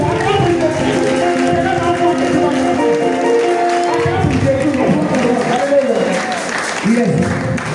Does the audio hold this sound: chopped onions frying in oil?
no